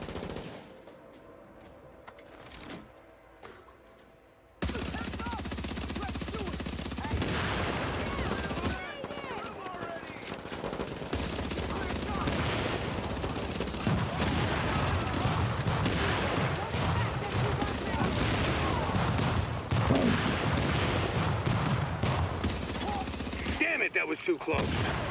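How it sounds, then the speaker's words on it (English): Sustained automatic gunfire from The Division 2, a long, loud, continuous stretch of rapid shooting and battle noise that kicks in abruptly after a quieter opening, with brief talk underneath. "Might as well shoot some shit."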